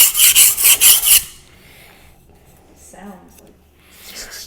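Knife blade being sharpened on a Nano Hone ceramic whetstone: a rapid run of gritty rasping strokes up close, then quieter scraping with a voice speaking in between.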